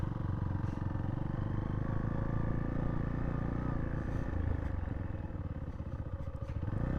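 A Zontes T2 350 motorcycle engine runs steadily while riding off-road, a continuous close droning rumble with slight rises in revs and some clattering over rough ground.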